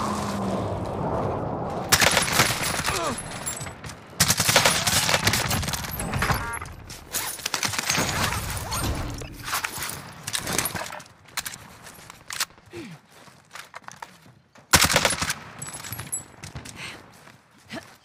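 Call of Duty: Warzone firefight: loud bursts of gunfire and booming impacts come in clusters separated by brief quiet gaps, with breaking and shattering sounds between them.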